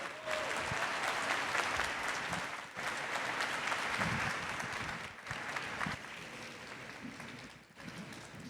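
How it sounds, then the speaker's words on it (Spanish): An audience at a book presentation during the Monterrey international book fair claps steadily as a speaker is welcomed, dense sustained applause in waves with short dips, with no talking. "Vamos a recibir con un fuerte aplauso a Denise Dresser."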